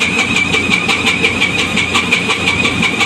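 A loud, steady ship engine on the vessel MV Fortune Delight drones continuously with a bright whine on top and a rough rumble underneath, with no voices.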